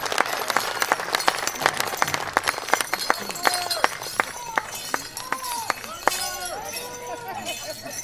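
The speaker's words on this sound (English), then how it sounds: "How about a big round of applause?" A big round of applause at a stage program, with brisk, steady clapping throughout and cheering voices rising over it.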